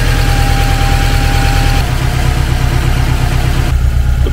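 A Subaru STI engine idles right after an oil change, a close, steady low rumble that holds evenly with a faint whine, its tone shifting slightly partway through, and no voices.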